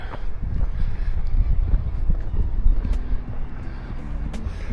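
Light breeze buffeting across a seaside quay at Portrieux on the Breton coast, a low rumbling gusty wind noise, fairly close and continuous, with faint clinks and distant boat sounds.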